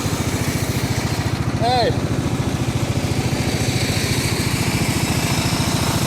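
A lawn mower runs steadily close by with a loud, even chugging engine throughout. A brief shout rises over it partway through.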